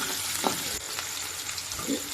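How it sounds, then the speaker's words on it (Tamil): Onions and chilies sizzling in hot oil with fennel seeds, curry leaves and garlic, a steady crackling fry with occasional stirring scrapes. "இது எல்லாத்தையும் சேர்த்து நல்லா வதக்கிக்கலாம்"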